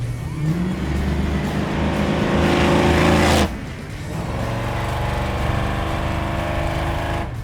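Big-block V8 in a 1971 El Camino roars loud and close, a steady heavy rumble that drops off abruptly partway through, then settles back into a sustained throaty idle.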